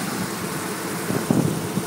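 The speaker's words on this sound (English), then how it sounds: "There's your Hemi. Running." A 2003 Dodge Ram Quad Cab 4x4 SLT with its 5.7 Hemi V8 running under an open hood, giving a steady low engine hum with a few small bumps near the end, close by and unbroken.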